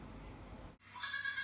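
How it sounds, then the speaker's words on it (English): After a low rumble of background noise, a hungry baby goat lets out a single high, wavering bleat close by. "A hungry baby goat."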